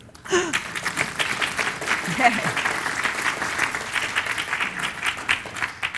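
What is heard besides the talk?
audience applause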